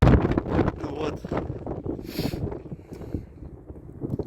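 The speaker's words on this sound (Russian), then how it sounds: "Очень сильный ветер." Strong Nord-Ost wind on the Markhotsky ridge buffets the microphone in loud, gusty roars, easing and surging over a few seconds with rushing noise.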